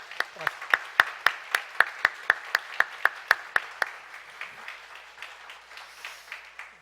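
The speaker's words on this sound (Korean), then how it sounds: "박수 한번 하시고" A church congregation at a Sunday service claps together in a steady, even rhythm of about twenty sharp claps, loud at first and fading into looser, softer scattered clapping toward the end.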